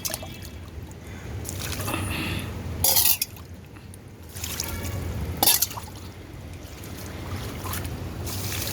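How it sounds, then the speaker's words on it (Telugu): Water poured from a container onto vegetable plants and freshly sown seeds in a home garden, a soft continuous trickle and splash with brief louder gushes, close by and with no talking. "ఈ వాటర్ ఇలా పోసేసుకుందాం కొద్దిగా"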